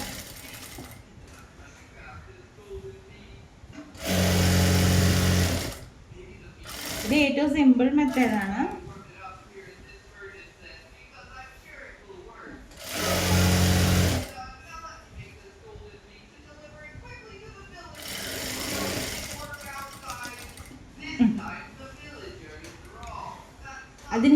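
A sewing machine stitches a pocket onto a straight cigarette-bottom pant in several short, loud bursts a few seconds each, separated by stretches of someone talking.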